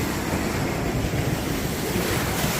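Ocean waves at Malibu wash in a continuous broad roar below a deck, loud and steady, with wind buffeting the microphone and no voices.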